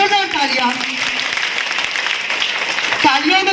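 Applause from the crowd at a Lodha community youth gathering, a steady wash of clapping throughout while someone speaks over it on a loud public address.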